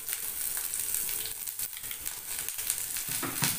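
Onions frying in a pan with tamarind and asafoetida for a pirandai chutney, giving off a steady close sizzle with small crackling bursts and no voices.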